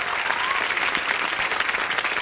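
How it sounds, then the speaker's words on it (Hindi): Loud, dense applause from a studio audience at a comedy talk show, a steady wash of clapping filling the whole moment without a break. "जोरदार तालियां।"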